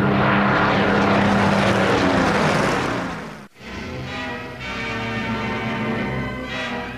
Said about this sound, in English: the young pilots of Mitchell's Spitfires would have to fight for their lives